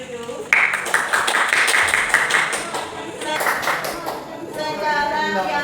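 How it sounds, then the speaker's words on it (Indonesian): Applause from a classroom group for a student group at a university teacher-training session, with brisk clapping that swells after a short pause and continues under voices talking. "tepuk tangan untuk kelompok masing untuk kelompok Tugu"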